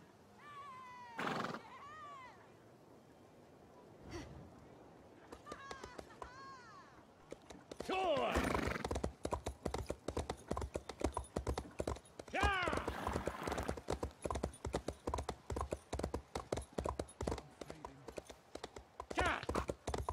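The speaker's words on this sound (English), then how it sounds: "And I wanted to feed my horse." Horse in The Elder Scrolls Online whinnies a few times, then hooves clip-clop in a quick, steady running rhythm close by, with further neighs over the hoofbeats.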